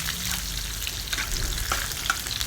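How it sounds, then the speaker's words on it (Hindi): Cumin seeds and split red chillies fry in hot oil for a kadhi tadka, giving a continuous close sizzle dotted with small pops and crackles. "तो ये हम बना रहे हैं तड़का जो कढ़ी के ऊपर से लगाना है"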